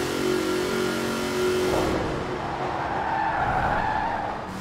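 Ford Ranger Raptor in Forza Horizon 4 racing at high speed in ninth gear, its engine roaring steadily with tyre skid noise, then easing into a lower, smoother drone near the end, with no talking.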